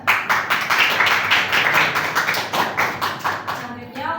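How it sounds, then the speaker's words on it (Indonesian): A small audience in a classroom session claps together for several seconds, a close, dense patter of hand claps with a regular pulse that fades out near the end. "Tepuk tangan, Mbak."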